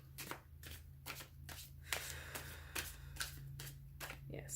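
Tarot cards are shuffled by hand in a rapid, rhythmic series of crisp riffling bursts, close and quiet, with a faint steady hum underneath.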